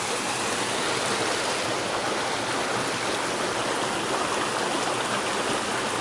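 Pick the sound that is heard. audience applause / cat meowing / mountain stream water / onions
mountain stream water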